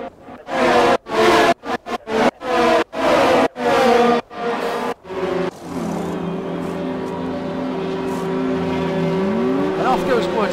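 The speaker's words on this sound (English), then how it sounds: "Other cars coming to the pits." F1 race cars from the F1 2020 video game at the French circuit roll into the pit lane, a steady engine drone building and holding after a stretch of loud commentary voices.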